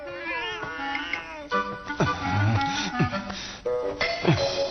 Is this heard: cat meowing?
yes